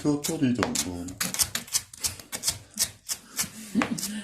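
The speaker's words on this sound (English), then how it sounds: "So I chop that up real fine." Half an onion is chopped finely with a knife, giving quick rhythmic taps on a cutting board under a man's running conversation.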